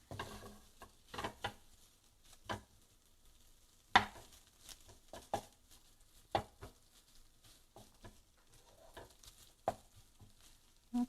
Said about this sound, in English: we'll let that fry up a little bit